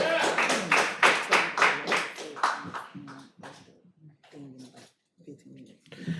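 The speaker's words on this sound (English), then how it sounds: "let's give yourself a round of applause" Brisk, rhythmic clapping from a crowd at an awards ceremony for the Golden Age and Wheelchair Games fills the first few seconds, then fades as a voice starts talking nearby.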